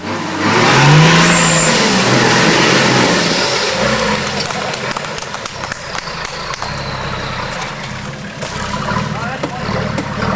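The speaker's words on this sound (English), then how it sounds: "This truck has a beautiful note to it with the turbo whining nicely" A 4WD truck engine roars loudly and steadily with a high turbo whine above it in a forest, gradually easing off, with faint voices underneath.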